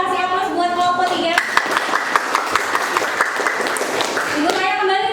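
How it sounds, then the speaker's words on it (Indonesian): Classroom applause for a student group, a burst of many hands clapping together for about three seconds between stretches of talking. "Kasih aplaus buat kelompok 3"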